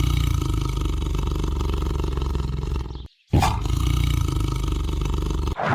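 A tiger roars loudly and close, a sustained growling roar that breaks off briefly and then resumes with another deep, heavy burst, with no talk.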